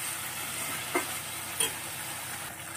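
Spice paste frying in oil in a pan for a small-fish chorchori, a steady close sizzle with a couple of sharp spatula scrapes as it is stirred.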